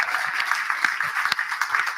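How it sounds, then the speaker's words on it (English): An audience at a pub politics event gives a short round of applause, a dense patter of many hands clapping at moderate distance. "Round of applause."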